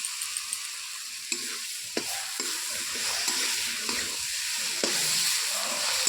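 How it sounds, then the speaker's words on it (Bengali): A ground paste of ginger, garlic and green chili fries with mutton in a pan, a bright, close sizzle punctuated by repeated scraping strokes as it is stirred, growing slightly louder toward the end. "দিয়ে বেশ কিছুক্ষণ নাড়াচাড়া করবো"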